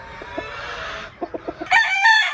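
A Macklin street-breed gamefowl rooster, kept as a broodcock, crows close by in one loud, drawn-out call, with a few short clucks and a brief higher-pitched crow at the end.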